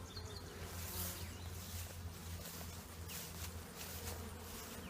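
Honey bees hum in a dense, continuous buzz around a healthy, active hive during a summer honey super check, with individual bees droning close past against the steady swarm.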